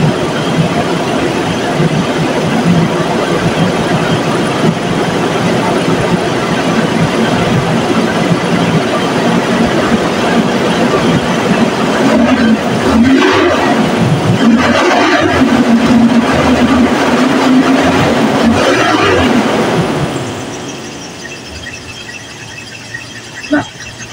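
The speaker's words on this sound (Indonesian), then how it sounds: "Ini adalah suara dari ciri khas kijang yang masih bagus ya" A Toyota Kijang engine revved gently after sitting unused for a long time, a steady loud mechanical drone with rising low rumble in the middle, then dropping back to a quieter idle near the end.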